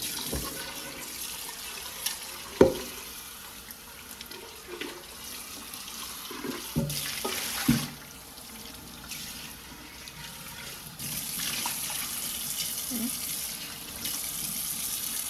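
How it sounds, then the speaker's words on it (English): A container is rinsed under a running kitchen tap while herbs and soursop leaves are cleaned, giving a steady hiss of flowing water broken by splashes and clunks of handling and a stronger gush near the end, heard close with no talking. "Pull that out, and we're gonna rinse this out."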